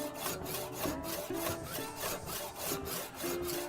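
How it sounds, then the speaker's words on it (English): A handsaw cutting into stone while shaping an oloid, rhythmic back-and-forth rasping strokes, close and steady, about two strokes per second, no talking. "As always, when you're using a handsaw,"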